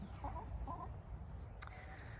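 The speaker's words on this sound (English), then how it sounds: "So I have my chicken babes over there." Backyard chickens cluck faintly and at a distance in a couple of short bursts over steady outdoor background noise.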